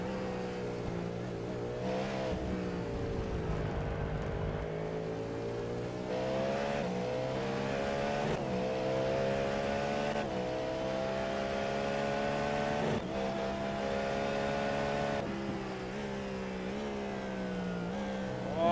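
BMW race car in a sim racing game sprint series, engine droning steadily at high revs with brief dips at gear changes, close and continuous for the whole stretch.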